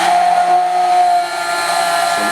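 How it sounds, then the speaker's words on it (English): An immersion blender whirs steadily in a pot of hot chocolate spiked with tequila, giving a loud, close motor whine with a sustained high tone that drops slightly in pitch partway through as the load changes. "we are using our trusted immersion blender"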